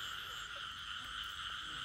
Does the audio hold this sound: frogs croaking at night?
yes